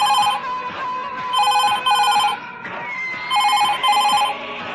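A telephone bell rings loud and close in repeated double bursts with brief pauses between them, alone with no voices.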